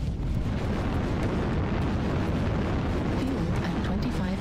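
Laser fire from a Vindicator mech in MechWarrior Online, a dense continuous roar of blasts and booms filling the whole stretch, loud and without pause.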